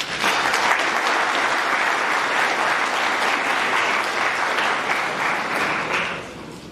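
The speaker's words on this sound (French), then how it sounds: "que je demande d'applaudir" Conference audience giving steady, full applause as a speaker is introduced, a thick continuous roar of clapping from many hands lasting over six seconds before it starts to taper.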